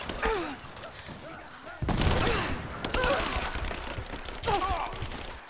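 Gunfire in the video game Rise of the Tomb Raider, bursts of shots and impacts arriving in several distinct bursts, moderately loud among game sounds.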